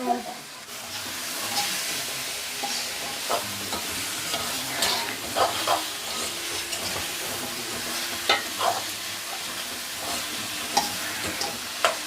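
Pre-fried meat tipped into a pan for a Batticaloa-style meat devil, sizzling and being stirred with repeated clattering utensil strokes, a continuous close frying sound over twelve seconds with faint background noise.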